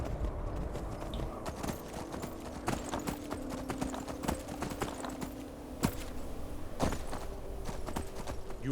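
Horse hooves clip-clop steadily at a walking pace in the Skyrim video game, close and continuous, with a low game ambience underneath.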